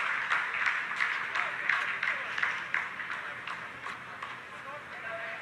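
ISRO scientists applauding during the Chandrayaan 3 landing: a steady patter of clapping from a crowd, moderately loud and continuous, with a voice speaking over it.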